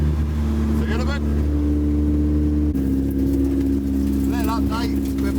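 A street rod's engine drones steadily from inside the car while driving, a loud low hum that shifts slightly in pitch partway through, with someone talking over it.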